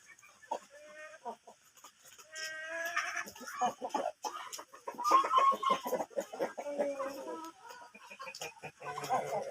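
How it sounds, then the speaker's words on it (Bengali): Farmyard chickens being fed crowd in with a busy, overlapping chorus of close clucks and squawks, a restless flock sound that carries on throughout. "আমি আমার মুরগিগুলোকে খাইতে দেবো দেখেন এরা খাওয়ার জন্য সবাই পাগল হয়ে গেছে"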